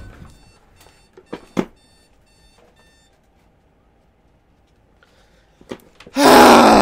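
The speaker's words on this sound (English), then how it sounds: "I turned my alarm off" An alarm clock in a narrative adventure game rings in a sudden loud burst at the end, after quiet stretches with a few faint sharp sounds and brief gasps.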